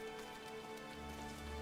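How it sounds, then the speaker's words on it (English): Rain falls in Final Fantasy XIV, a soft steady patter and hiss under a quiet tonal game music hum, faint and continuous throughout. "It's raining out here."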